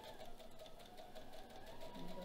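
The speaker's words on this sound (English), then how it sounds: "I'm going to backstitch." A sewing machine backstitching a decorative pillow case runs in a steady, fast mechanical whir with rhythmic needle ticking, fairly faint and close.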